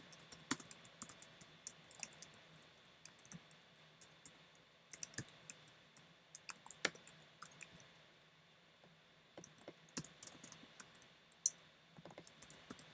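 Keys on a computer keyboard tap away in an irregular, quick patter while someone codes an idle game in Vue.js. The typing is fairly quiet and close, with short pauses and no voices.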